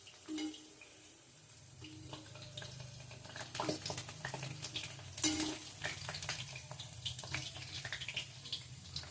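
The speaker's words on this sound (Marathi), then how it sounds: "तेलकडक असल्यामुळं पहिलं भजत असलेले हे दोन भजी थोडेसे पुढे सरतील" Bhaji frying in hot oil on a stove, a steady soft sizzle with a few brief clicks and stirring scrapes throughout, no talking.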